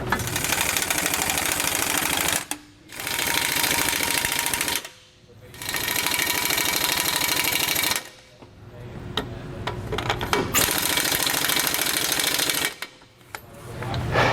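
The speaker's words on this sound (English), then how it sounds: "we'll take our gun and tighten these back down" An impact gun tightens the bolts on a Roadmaster Reflex steering stabilizer on a 2017 Newmar motorhome, giving four loud, sustained rattling bursts of a few seconds each, separated by short pauses.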